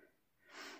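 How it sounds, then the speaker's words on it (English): A dog snores loudly nearby, one rough snorting breath swelling up in the second half of a short, quiet moment. "That's our dog Fox snoring up, by the way."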